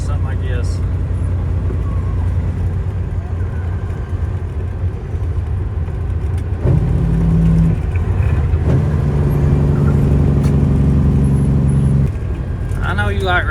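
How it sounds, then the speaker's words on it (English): An old Mack truck's engine drones low and steady while driving, a constant heavy rumble from inside the cab that deepens and firms up partway through, with someone talking over it. "This old truck drives good."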